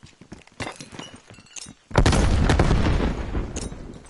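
Grenade explosion in a PS5 shooter game: scattered thumps and distant gunfire give way to a sudden heavy boom that rumbles on for a couple of seconds, with more shots around it.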